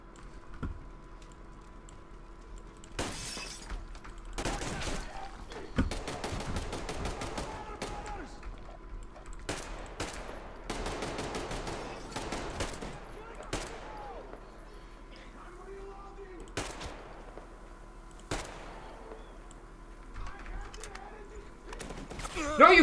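Bursts of heavy gunfire from a big gun in the video game Metro Exodus, repeated volleys spread across the scene alongside clicks and game effects, with someone talking at times.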